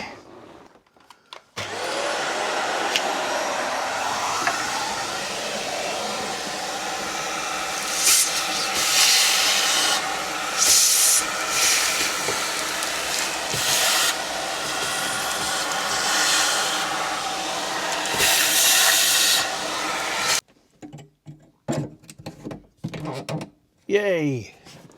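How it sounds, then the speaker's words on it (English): A vacuum cleaner runs steadily with a broad airy hiss for about twenty seconds during fuel pump work on a scruffy Jaguar XK8, then cuts off, leaving brief clatter and movement. "Just going to bring the vacuum cleaner back."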